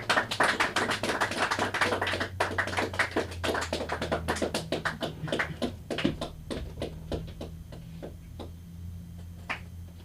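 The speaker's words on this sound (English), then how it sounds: "You stop clapping." Rhythmic hand clapping at a lively party gathering, a steady run of sharp claps that starts dense and loud, then thins into sparser, quieter claps over a low steady hum.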